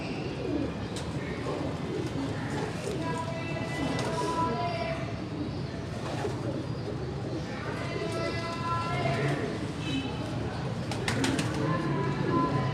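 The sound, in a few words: pigeons cooing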